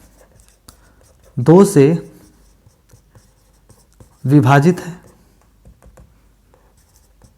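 Pen or chalk scratches across a board or paper while a maths lesson is worked out, faint and intermittent ticks between two short stretches of a teacher's voice.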